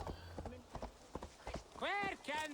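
Horse hooves clip-clop in the game Assassin's Creed Valhalla, a soft repeating beat at moderate distance that runs through the clip, broken near the end by a horse's neigh.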